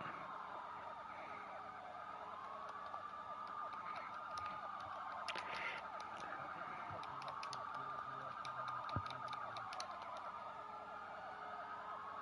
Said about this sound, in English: Yeah, all I hear sirens too.